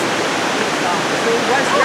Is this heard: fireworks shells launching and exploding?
no